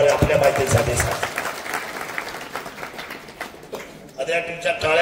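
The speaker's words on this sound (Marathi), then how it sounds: "आता तुमच्या टाळ्या मला झोप येऊन देणार नाही" Audience applause at a Marathi political rally in Pimpri Pendhar, a dense wash of clapping from a crowd that swells loudly at first, thins through the middle and rises again briefly near the end.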